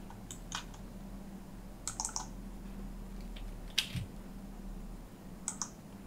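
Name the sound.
computer keyboard typing, pressing the Enter key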